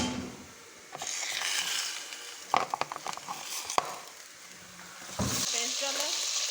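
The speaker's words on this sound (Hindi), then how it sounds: "लहसुन अदरक का पेस्ट डालूंगी 1 स्पून।" Garlic-ginger paste hitting hot oil for mixed dal fry, a close sizzle that swells in bursts, with clattering spoon stirs in the middle and quieter frying between.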